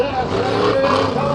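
A monster truck engine roars loudly at full throttle during a freestyle run at a fair, a continuous deep growl with shifting pitch under an announcer's voice.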